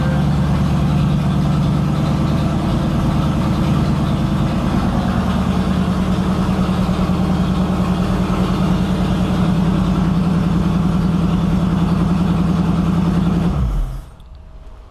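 A freshly rebuilt Ford 351C V8 idles loud and close with a steady, deep rumble that holds for many seconds, then shuts off abruptly near the end, leaving near silence.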